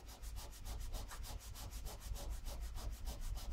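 Baking soda being rubbed by hand over a rusty spot on a sword blade, a steady rhythmic back-and-forth scrubbing of about two strokes per second, close and continuous with no talk.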